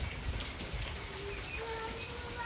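Rain falls during a storm in the countryside near fish ponds, a faint, steady, even hiss of drops on surfaces, with a few soft bird calls high above it.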